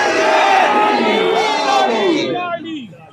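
Large crowd at a funeral procession shouting a religious slogan in unison, a loud massed roar of voices that fades out at the end.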